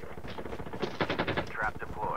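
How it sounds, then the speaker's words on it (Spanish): Rapid automatic gunfire from the COD Mobile video game rattles in sustained bursts, with voices talking over the shooting. "alguien me está disparando"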